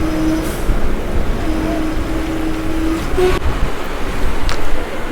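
Mangaluru Express train passing nearby in heavy rain, a loud continuous rumble and rolling rail noise with a brief tonal whine and a few sharp clanks.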